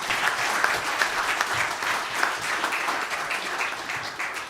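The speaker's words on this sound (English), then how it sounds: "please could we give them another round of applause?" Conference audience at a stakeholder opening session gives a steady round of applause, dense and even clapping from a large room with no voices standing out.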